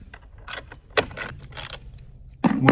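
Ratchet with a 10mm socket working a car battery terminal nut on a Hyundai Elantra: a few short metallic clicks and clatters spaced apart, close and fairly quiet, ending with a louder scrape.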